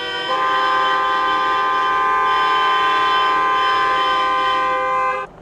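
A long, loud, sustained car horn blast echoes in a crowded underground parking garage, on the second basement level, holding steady for several seconds before cutting off.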